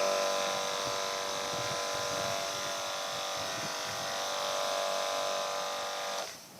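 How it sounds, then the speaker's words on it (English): An electromagnetic disinfectant sprayer with monofoil technology runs steadily while treating a desk, a continuous close electric buzz and whine that holds even for about six seconds, then cuts off abruptly at the end. "an electromagnetic sprayer, and he's going to go ahead and treat the desk"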